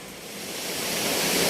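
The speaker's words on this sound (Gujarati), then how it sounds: "તમે જોઈ શકો છો આ રીતનો કોઈ પુણ્ય મહાદેવનો ધોધ પડી રહ્યો છે" The Gupteswar Mahadev waterfall at Pavagadh rushes in a steady, broad roar of falling water that swells slightly louder throughout, with no voices.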